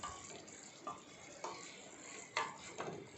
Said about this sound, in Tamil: கீ போட்டதுக்கப்புறம் நல்லா ஒரு சுற்று எல்லாம் மிக்ஸ் ஆகிற மாதிரி நம்ம கிளறிக்கலாம்